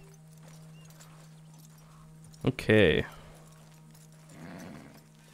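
Horse in Red Dead Redemption 2, a white horse: a loud, close whinny bursts out briefly, with soft hoof clip-clop around it and a steady low hum beneath; a voice speaks once.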